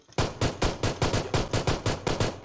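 Rapid automatic gunfire in the mobile game PUBG Mobile: about a dozen loud, evenly spaced shots in a steady burst, with no talk over them.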